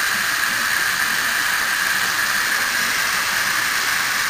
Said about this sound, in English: Steam starting to roll pretty good.